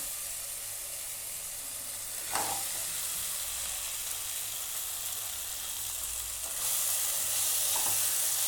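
Paneer fried in ghee is stirred into a masala in a pan, with a steady soft sizzle and hiss broken by a couple of faint spoon scrapes. No talking.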